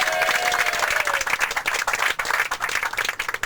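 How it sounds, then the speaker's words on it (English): A convention crowd at a comedy event breaks into lively applause for a bus driver, many hands clapping in a thick, fluttering wash that thins toward the end. "Let everybody give a round of applause."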